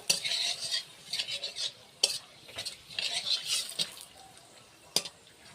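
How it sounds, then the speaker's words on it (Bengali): Whole garam masala and bay leaves are stirred in hot oil, making a brisk, close crackling sizzle with repeated spoon scrapes and a couple of sharp metallic taps on the pan. "গোটা গরম মশলা আর কয়েকটা তেজপাতা। এটা একটু নেড়ে চেড়ে ভেজে নেব।"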